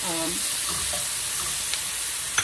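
Seasoned shrimp, salt and pepper, dropped into a hot skillet give a steady close sizzle that carries through, with a faint clink near the end.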